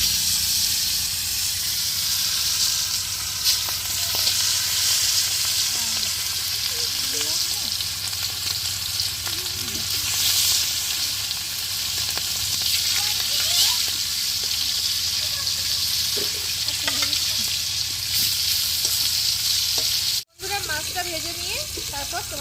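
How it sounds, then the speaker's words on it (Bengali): Fish sizzles and hisses steadily in hot oil in a pan, a constant crackling fry with scattered pops and faint background voices, with a brief dropout near the end. "তো মাছগুলো এবার ভেজে নেবো"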